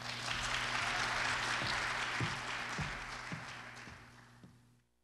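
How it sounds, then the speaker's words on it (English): An audience at a performing arts competition claps steadily and loudly, then the applause thins and fades out near the end. "How about a nice round of applause?"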